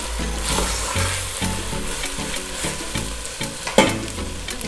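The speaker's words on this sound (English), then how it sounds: "just going to cook this for a further 2 minutes" Chakalaka, a South African vegetable relish, cooking in a pan, with a continuous close sizzle and rhythmic spoon stirring and scraping, one louder knock near the end.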